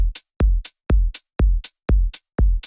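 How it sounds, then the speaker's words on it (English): A steady beat of six bright, layered hi-hat sample ticks, each paired with a deep kick thump, sounding full and crisp. "And with a bit of layering, it sounds like this."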